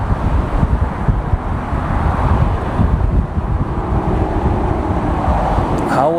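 Gusty wind roars steadily across the open airfield at Las Vegas airport, a loud, continuous rumbling rush with no pauses throughout.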